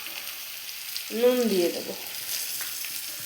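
Tomato stirred and frying in a pan for a semolina dish, a soft continuous sizzle with faint stirring scrapes, while someone speaks briefly over it.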